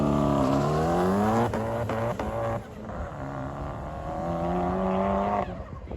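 A remapped Ford 1.4 turbo front-wheel-drive car launches hard at a race event, its engine revving high and rising through the gears in a loud, strained drone with brief breaks at the shifts before pulling away.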